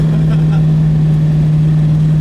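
A 1970 Ford Mustang Boss 429 with a 4-speed manual drones steadily from inside the car as it downshifts, a loud, even low engine hum held throughout the short stretch.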